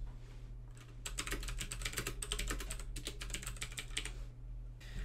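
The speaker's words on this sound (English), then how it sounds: "And these are blue switches, so they're super loud." Rapid, loud clacking of a knockoff mechanical keyboard with clicky blue switches, keystrokes tumbling in fast bursts with brief pauses, close and alone over a steady low hum.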